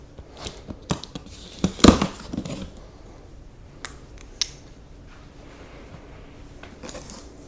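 Blade slicing and tearing through the tape and cardboard of a Mova V50 Ultra box, a cluster of crackling scrapes and rips peaking loudly midway, followed by a few sparse rustles and ticks with no talking.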